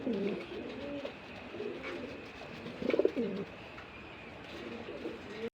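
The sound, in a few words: pigeons cooing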